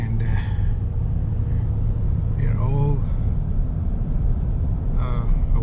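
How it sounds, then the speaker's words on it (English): Rescue trucks lined up in Vero Beach, Florida, the day after Hurricane Dorian, giving off a steady low rumble of idling engines, with a vehicle passing by as the sound rises and falls and voices chattering in the background. "we got all these trucks ready for rescue"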